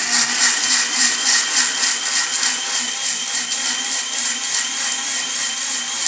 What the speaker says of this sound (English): We are making a vegetable smoothie now